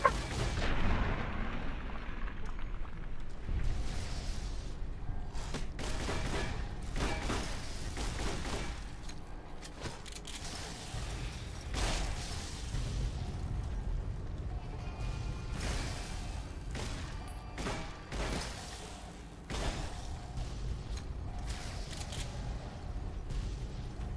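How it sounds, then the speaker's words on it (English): Explosions and gunfire in the video game Fallout: New Vegas, Lonesome Road, a long stretch of heavy booms and repeated shots, some close and loud, others distant, over a rumbling background. "I do not wish to ride into the explosions."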